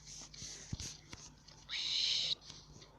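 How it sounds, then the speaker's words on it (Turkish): A steady, bright whistle-like tone holds for about half a second amid scattered chirps and soft clicks, like cockatiel-like parrots whistling in Minecraft. "bu kuşlar sultan papağanı mı ya? Islık çalıp duruyorlar."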